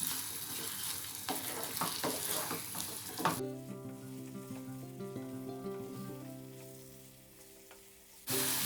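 Stuffed brinjal sizzles steadily as it sautés in a pan for about three seconds, then the frying drops away and quieter, steadier tones take over.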